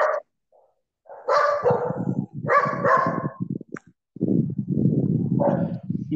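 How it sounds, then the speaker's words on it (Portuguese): Dogs bark in irregular bursts, some yaps short and others drawn out, at moderate loudness. "tô vendo uns cachorros latindo aí"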